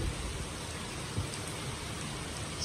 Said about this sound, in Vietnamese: ngồi trời mưa rất to, nó hơi bị ồn nha bác nha.